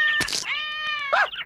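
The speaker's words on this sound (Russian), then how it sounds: "Кошки!" Cartoon cat from The Simpsons animated series meowing loudly and close: a sharp first cry followed by a long drawn-out meow that ends in a rising, wavering yowl, with no voices.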